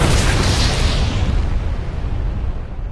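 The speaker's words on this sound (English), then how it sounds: "the bomb explodes in, again, the most underwhelming way possible." A loud bomb explosion from the Dead Rising movie gives a sustained, close rumbling roar that slowly fades over a few seconds.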